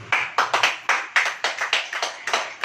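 A church congregation clapping together in a steady, rhythmic beat, sharp repeated claps about three per second, close and loud with no talking over them.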